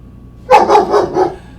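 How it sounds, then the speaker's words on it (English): Four quick dog barks in a row, moderately loud and a little distant, with no talking. "Jackie barking in the background."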